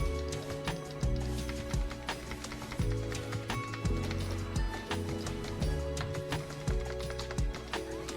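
Rhythmic galloping horse hoofbeats from the game Black Desert Online clatter in a repeating pattern, steady and fairly close, with game-like layered thuds and no talking.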